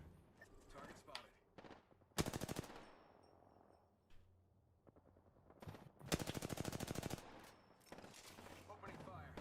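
Gunfire from the video game Apex Legends, with two loud rapid automatic bursts separated by quieter stretches of scattered shots and game noise, and voices talking faintly throughout.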